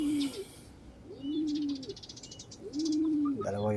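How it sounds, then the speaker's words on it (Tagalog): Breeder pigeons coo close by in soft, repeated throaty phrases, with faint chirps behind them and a brief voice at the end. "Dahil ito yung mga breeder natin mga kalapatids."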